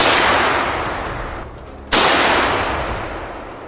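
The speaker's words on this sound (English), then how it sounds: "rapid gunshots echoed" A farmer firing rapid gunshots at wild boars in a tomato field: two loud, close blasts, each followed by a long echoing decay, the second coming after a short lull.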